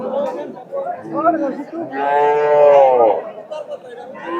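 Desi and Sahiwal cattle, bulls and heifers, lined up at a livestock market; a single long, loud moo rises between stretches of nearby talking.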